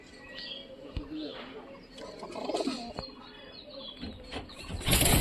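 Pigeons in a loft, Giribaj and local breeds, cooing softly at close range amid scattered chirps and flutters, with brief clatter and a louder burst near the end.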